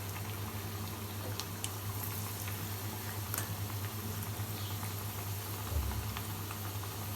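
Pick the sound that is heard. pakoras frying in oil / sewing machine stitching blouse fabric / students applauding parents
pakoras frying in oil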